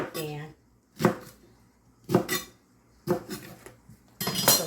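Potatoes being cut by knife into thin sticks on a cutting board, five separate chopping bursts spaced about a second apart, close and fairly loud, with faint clinks in between.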